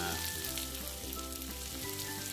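Mustard seeds, split chickpea lentils, urad dal and green chillies sizzle and crackle steadily in hot oil in a home kitchen, a continuous close frying hiss with no talking.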